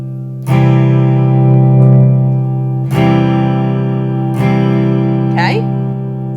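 A hollowbody electric guitar has its magnetic and acoustic pickup outputs blended, with three strummed chords ringing out loud and sustained, each fading before the next, and a short slide near the end.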